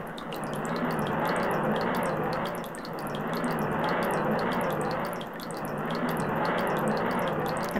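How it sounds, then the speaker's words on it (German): Water draining away in Zelda Ocarina of Time Master Quest, a gurgling, trickling rush that swells and fades in three slow waves, heard alone. "Und da verschwindet das eklige Wasser."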